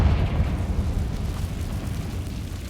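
A blasting-spell explosion in Hogwarts Legacy, a deep rumbling boom that opens loud and decays slowly into a low roar over a few seconds.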